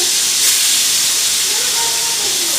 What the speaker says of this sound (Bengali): আগে মাছটা ভাজি নিতেছি তেল গরম হয়েছে